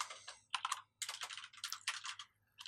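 Quick bursts of typing on a computer keyboard while writing game code, keys clattering in fast clustered runs with brief pauses between, close and fairly soft.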